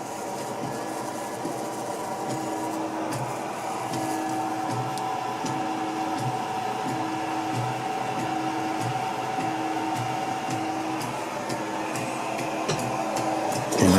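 An Ultimaker 2 clone 3D printer runs with its fan whirring steadily, a constant close hum with a faint rhythmic mechanical pulsing beneath and a brief clunk at the end.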